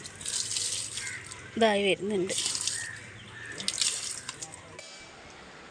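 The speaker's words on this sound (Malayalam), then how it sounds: "പിന്നെ ചെടികൾക്ക് വെള്ളം ഒഴിച്ചു കൊടുക്കണം." Water splashes and trickles onto garden plants in steady pouring, fairly quiet, while a person talks briefly over it.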